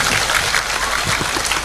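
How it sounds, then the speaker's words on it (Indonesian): Crowd applause for a guest, the Blora regent, at a Javanese religious gathering, a dense steady clatter of many hands that fills the whole short stretch at an even loudness. "tepuk tangan untuk Pak Arif."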